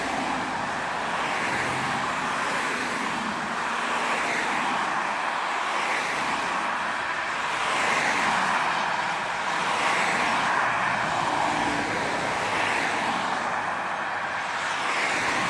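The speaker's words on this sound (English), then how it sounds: "It's a big truck." A big truck passing through a roundabout on Station Road near Stirling, Scotland, heard as a steady, loud roadway rumble that swells gently around the middle, with continuous traffic noise throughout.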